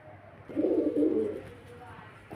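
A breeder's pigeons give one low, throaty coo, close by, lasting about a second early on before it fades to a quiet background.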